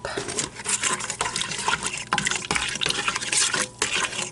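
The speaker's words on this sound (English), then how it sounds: "You're going to stir that up" Yeast is stirred into a cup of very warm water in a bowl, a close, steady swishing and sloshing that runs continuously with small splashes and no talk.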